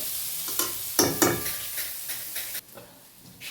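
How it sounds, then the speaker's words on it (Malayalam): Chicken curry ingredients sauté in a pan with a low steady sizzle, broken by a few sharp scraping stirs of a spoon against the pan, close and moderately loud, with no talking. "നന്നായിട്ടൊന്ന് വഴകട്ടെ"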